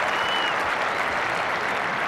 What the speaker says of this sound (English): I'd have waited for some sort of applause to give to an England batsman this morning, and Hemmings has just got it.